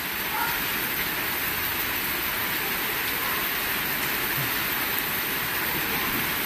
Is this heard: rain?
yes